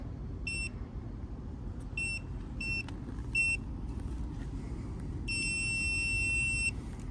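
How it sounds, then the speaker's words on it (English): Several short electronic beeps in quick succession from a multimeter continuity test, then one longer sustained beep, all over a low rumbling background hum. "So we know when it makes that beep that it has a good connection."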